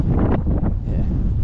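Outdoor wind in windy weather buffets the microphone with a loud, brief, low rumbling roar and no pause.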